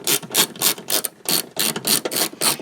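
Ratchet wrench clicking steadily as three 10mm bolts are loosened from the windshield wiper transmission on a Chevy Equinox, bursts of rapid clicks repeating in an even rhythm, close and clear with no talking.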